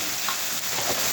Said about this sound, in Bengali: পেঁয়াজটাকে ভাজা হয়ে গেছে, এবার এর সাথে দিয়ে দিব আদা রসুনের